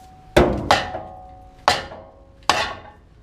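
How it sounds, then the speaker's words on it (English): Four sharp strikes of a plastic mallet against a metal brake part on a 2014 Toyota 4Runner, each ringing briefly, the first two close together and the others spaced farther apart. "So I'm going to use a plastic mallet hammer"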